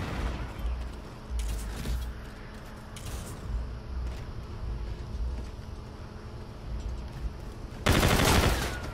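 Gunfire in a first-person shooter video game: scattered bursts of rapid shots over a steady background rumble, with a louder, denser burst near the end.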